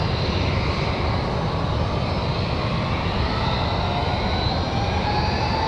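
Southwest Airlines jet from Chicago Midway touching down at Raleigh Durham International: a continuous, loud rumbling engine roar with a steady rushing wash and faint higher whine, unbroken throughout.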